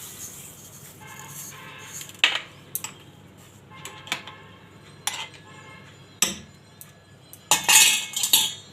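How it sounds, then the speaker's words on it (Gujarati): A spoon stirs sugar into sweet yogurt lassi, giving irregular bright clinks and scrapes against the vessel over a quiet background. "જે આપણે આને હવે હલાવીશું, ને આ રીતે આપણે એકદમ સરસ મિક્સ કરી લેવું"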